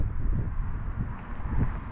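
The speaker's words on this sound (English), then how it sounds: "It is very windy though," Wind blows at night at an open campsite, a low rumbling gusting rush that buffets the microphone steadily for two seconds with no voices.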